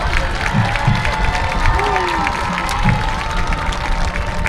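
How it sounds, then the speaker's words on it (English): Crowd noise at a high school football game between Roma and Sharyland Pioneer, with applause and scattered cheers during a homecoming court presentation, steady and broad with voices and shouts mixed in. "Let's have a round of applause"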